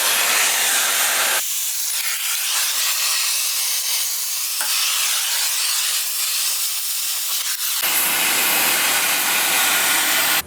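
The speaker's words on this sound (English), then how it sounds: "You can see it cutting the U-bolts right in half." A cutting tool slices through steel U-bolts during a 6-inch lift install on a Blazer, a loud continuous grinding hiss with a brief drop in intensity mid-cut, no talking.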